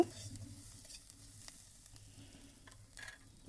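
Spiced bread and potato mixture is stirred in a hot pan, a faint low sizzle with soft occasional scrapes of a spoon, quiet and close, with no voices.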